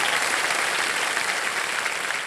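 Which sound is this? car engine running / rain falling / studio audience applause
studio audience applause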